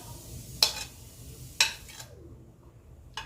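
Chopped beans, onion, green chilli and coriander leaves hit a hot frying pan in a few separate additions, each bringing a sudden burst of sizzling that quickly fades into a low, steady fry.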